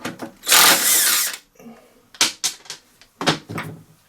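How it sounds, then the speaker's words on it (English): A 14mm impact wrench fires in short bursts, one long burst followed by several sharp rattling blips, close by, removing the blade brake part from a Hayter 479 series lawn mower. "There's a 14mm spanner at the back of there to hold the shaft, 14mm impact,"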